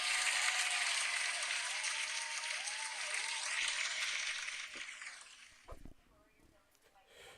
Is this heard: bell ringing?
no